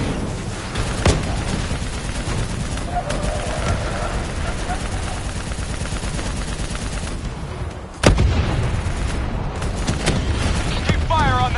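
Rapid gunfire rattles in Call of Duty Black Ops III amid dense battlefield noise, with sustained bursts and a couple of sharp, heavy blasts cutting through, loud and near, while voices talk in the background.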